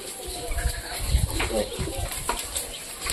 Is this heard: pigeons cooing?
yes